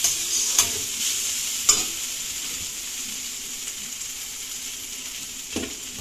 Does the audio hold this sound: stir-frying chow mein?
yes